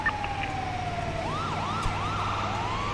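Police sirens wail in a video game as cops chase an ambulance, a steady rising and falling whoop close and loud over a constant engine drone, with no talk.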